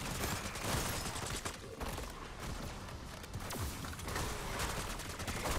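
Gunfire in a Call of Duty Zombies match, rapid dense bursts of shots and booms running continuously at moderate loudness, with players talking faintly underneath.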